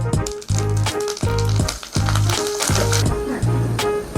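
Curry leaves crackling in hot tempering oil for mango pulihora, with a loud, rhythmic sizzle and spatter that surges in repeated bursts.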